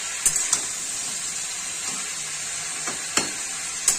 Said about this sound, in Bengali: সবজিগুলো মিশিয়ে নিতে হবে, প্রত্যেকটা সবজি। দেখুন এইভাবে নাড়াচাড়া করতে হবে